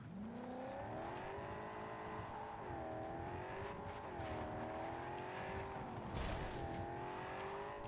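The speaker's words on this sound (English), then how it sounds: "this car handles terribly" A car is driven in a video game, its engine drone steady and continuous with pitch rising and falling as it accelerates and eases off, with a brief skid or impact noise near the end.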